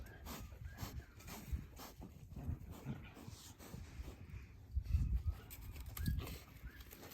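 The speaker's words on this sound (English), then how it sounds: "Got some crazy dogs back there." Dogs whimpering and panting somewhere in the background of a home, a faint, uneven string of soft whines and breaths with no steady rhythm, sitting low behind quiet room noise.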